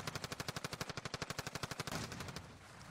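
Rapid machine gun burst in the video game Warzone, about twenty evenly spaced shots over two seconds, loud and close, fading into a rumbling tail.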